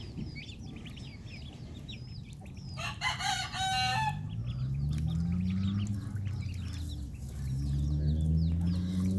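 Several chickens cluck and murmur close by, with a rooster crowing briefly in the middle and low bird calls continuing throughout.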